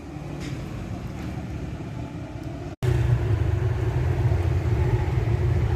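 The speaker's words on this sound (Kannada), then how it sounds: "ಒಂದು ಸಲ ಈ ಟ್ರಾಫಿಕ್ ನೋಡಿ" Steady low rumble of road traffic, engines droning continuously at close range with no voices, briefly cutting out mid-way before returning louder.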